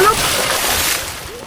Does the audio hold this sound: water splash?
yes